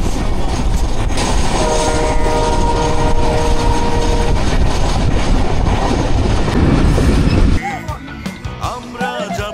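A special train heading into Dhaka rolls loudly along the rails with a continuous rumble, a sustained horn blast early on, then the noise drops off abruptly near the end as faint voices and ambient sounds take over.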